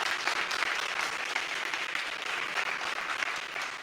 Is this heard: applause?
yes